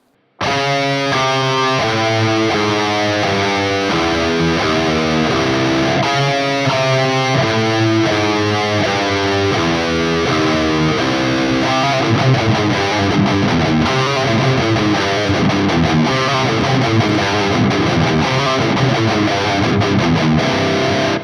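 A heavily distorted electric guitar chugs through fast, driving metal riffs, loud and continuous, with no voices.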